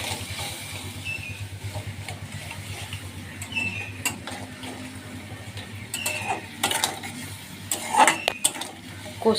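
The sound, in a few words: stirring and sautéing spices in a pan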